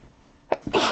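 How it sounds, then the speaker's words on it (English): One person sneezes once, a close, sharp burst that follows a brief inhaling catch near the end of a quiet moment. "Oh, I've got to sneeze."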